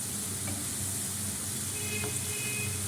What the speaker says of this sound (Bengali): আচ্ছা, এটা একটু ভালো করে কষানো হোক, একটু ভালো করে কষানো হোক